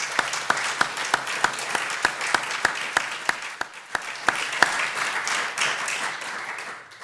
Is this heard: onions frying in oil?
no